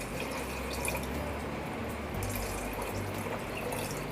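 Water being poured into a pressure cooker holding macaroni, a steady close splashing and trickling stream that runs on without pause for the whole stretch.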